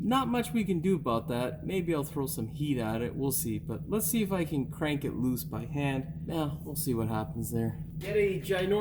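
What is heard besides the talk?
None of the usual background noises is heard.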